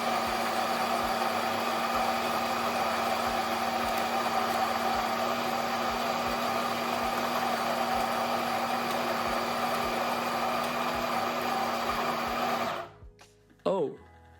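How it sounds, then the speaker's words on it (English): Built-in grinder of a Meraki espresso machine grinding coffee beans, a steady loud whirring hum running for about twelve seconds before cutting off abruptly, followed by a brief clatter. "You simply touch the grinder icon on top of the touchscreen and then you click the grind button that shows up."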